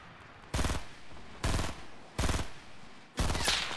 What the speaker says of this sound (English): Oh man, the sniper fire.